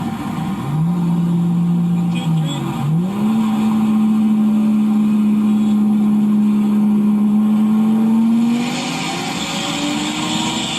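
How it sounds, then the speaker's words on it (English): A race car accelerates hard in a race, its loud engine note climbing in a steady rising whine for about eight seconds, dipping briefly at a gear change, then fading slightly toward the end. "Here's my buddy racing him again."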